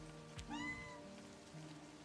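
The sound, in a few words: cat meowing in a video game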